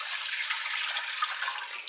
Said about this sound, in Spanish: Lo primero que vamos a hacer es en una cazuela poner agua